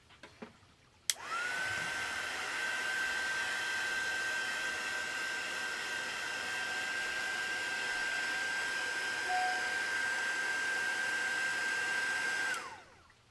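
A hair dryer blows steadily on a mixed media journal card layer for about eleven seconds, a constant close whooshing drone with a high whine, starting after a click and cutting off at the end.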